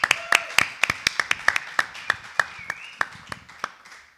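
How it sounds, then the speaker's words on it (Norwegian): A small audience claps for Aron at a live evening show, sounding as a handful of close, distinct claps that come in a fairly regular rhythm and thin out toward the end. "Applaus til Aron."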